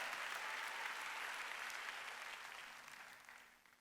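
Church congregation applauding during a sermon: dense, steady clapping from many hands that holds evenly, then gradually thins and fades toward the end.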